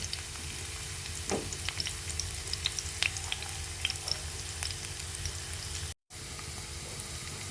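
Chopped onion, garlic and green chili fry in hot oil, a steady close sizzle with small crackles and pops and a faint stir partway through, no talk.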